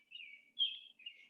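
Robins sing in short, bright, high chirping phrases from outside, faint and fairly close, with a brief rising note in the middle and no talking.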